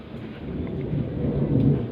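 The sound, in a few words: light rain falling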